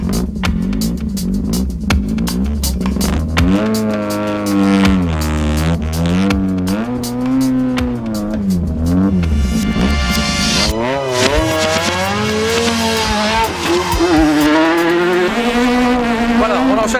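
A 1995 Renault Clio Maxi rally car is driven hard downhill through forest corners, its engine screaming loud and close through rising and falling revs with sharp gear changes and braking, while voices talk over it inside the car.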